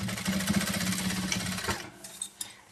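A sewing machine runs a straight seam on a fabric box-style pencil case, its steady mechanical whir filling the first stretch before stopping, followed by a few faint handling clicks.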